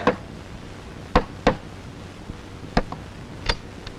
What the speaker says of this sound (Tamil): கதவு யார தட்டுறாங்க